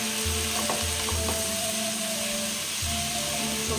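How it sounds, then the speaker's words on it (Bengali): Dalia (broken wheat) being stirred into frying vegetables for dalia pulao: a loud, continuous sizzle with a steady hum beneath and a few faint scrapes, close by and without talk. "এবার নাড়িয়ে দিচ্ছি ভালো করে।"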